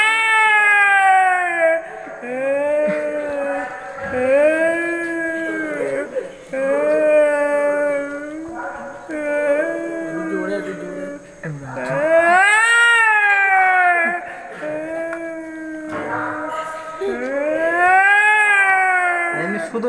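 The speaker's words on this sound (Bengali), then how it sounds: "দুটো বিড়ালের ঝগড়া।" Two cats fighting, trading long rising and falling yowls and caterwauls that overlap and swell loudly, close by and continuous, with brief pauses between bouts.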